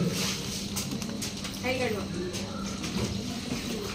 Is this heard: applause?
no